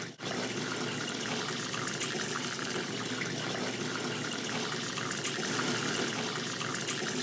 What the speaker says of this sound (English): Here we see the water coming out of the spray head.